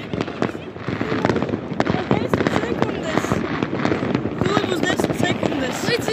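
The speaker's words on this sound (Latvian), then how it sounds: "Šausmas, te ļoti daudz salūtu!" A dense string of New Year fireworks and firecrackers crackles and bangs across the city, quick overlapping pops close by, with voices chatting underneath the racket.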